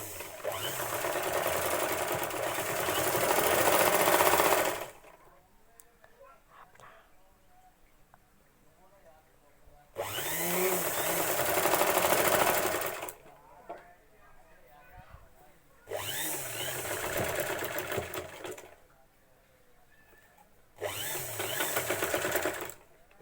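A sewing machine stitches the folded edge of a blouse, with four loud, steady runs of whirring separated by quiet pauses in which faint handling noise can be heard.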